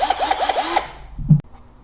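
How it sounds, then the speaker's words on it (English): A power drill boring holes into a Rocket Bunny widebody car body kit, with a few quick whirring bursts followed by a louder short drilling push that stops abruptly, close and alone. "So let me start drilling some holes."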